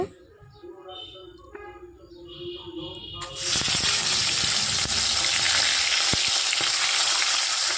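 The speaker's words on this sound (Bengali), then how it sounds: "মাছ ভাজা করে নেব।" Fish frying in a pan bursts into a loud, dense sizzle about halfway through, following a quieter stretch of softer, tonal sounds, then hisses steadily and close up to the end.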